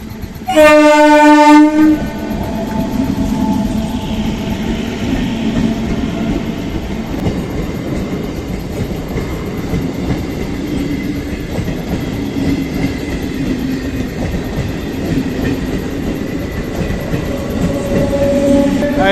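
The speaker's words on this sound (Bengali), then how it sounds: "অন্ডাল থেকে সাঁইতিয়া লোকাল ট্রেনটা পেরোচ্ছে" An Andal–Sainthia local train blasts a loud horn at a level crossing, then rolls past with a long, steady rumble and clatter of wheels on rails.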